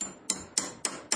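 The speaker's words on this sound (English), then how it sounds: "turn that up and tap the pin in place with the hammer" A hammer taps a pin into place in woodworking, giving five evenly spaced, sharp metallic knocks, close and fairly loud, each with a short ringing decay.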